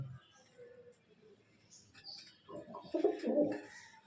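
Pigeons cooing in a loft, soft throaty coos that build to a louder cluster of close calls near the end, with faint background rustling.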